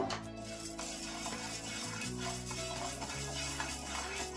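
Chana dal and urad dal roast in a pan, making a steady dry rustle and faint sizzle as they are stirred, close and continuous throughout.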